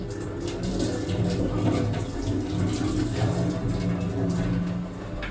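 Water pours off a pot of cooked chickpeas as they are drained, a steady close splashing and trickling stream that runs unbroken throughout.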